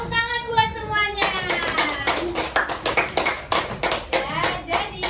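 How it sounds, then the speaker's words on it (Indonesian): A class of children claps in a lesson, a burst of quick overlapping hand claps following a voice, continuing for several seconds close to the recorder. "Tepuk tangan buat semuanya."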